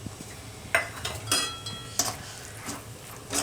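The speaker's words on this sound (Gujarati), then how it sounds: "દહીં નાખીને એકદમ હલાવી નાખવાનું આ રીતનું" A spoon stirs yogurt into a gunda gravy curry in a pot, giving several sharp metallic clinks and scrapes against the pan at an uneven pace, close and fairly loud, with no voices.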